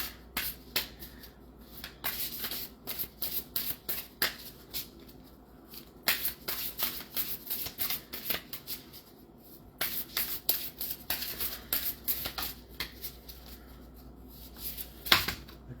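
An Energy and Spirit oracle card deck is shuffled by hand, with repeated quiet riffles and soft card snaps coming in short bursts separated by pauses, close and faint.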